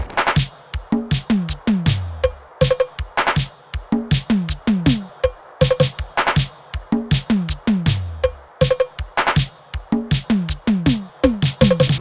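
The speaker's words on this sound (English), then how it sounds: "toms, congas, and cowbells to make something that sounds like this" A programmed post-punk drum pattern on LinnDrum and Roland TR-505 machines plays sharp claps, descending toms, congas and cowbells in a fast, dense, repeating rhythm, loud and alone with no voices.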